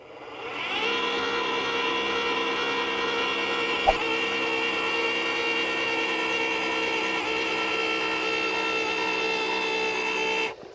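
A Ryobi 40-volt 8-inch powered earth auger drills into the ground, droning steadily for about ten seconds, a constant mechanical whir with a brief knock partway through before it winds down.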